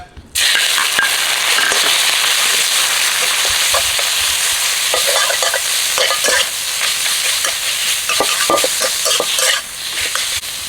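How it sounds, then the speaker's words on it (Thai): Minced pork stir-frying in oil in a pan, a loud continuous sizzle broken by repeated scraping and clacking strokes of a spatula, close up with no talk. "หมูสับก็เอามาลวนน้ำมันนะครับ"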